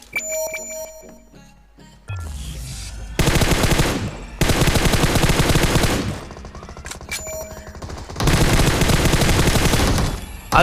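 Automatic gunfire rattles in a mobile shooter video game, coming in several loud sustained bursts separated by short pauses and quieter game sounds, with no talk over it.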